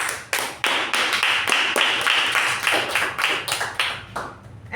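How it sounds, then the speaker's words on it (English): Steady applause from a crowd, dense clapping with sharp bursts throughout, no voices over it. "a big round of applause for the TAPG roll takers"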